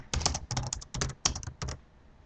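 Quick bursts of keystrokes on a computer keyboard as a label is typed, close and fairly quiet, in several short clusters with brief pauses.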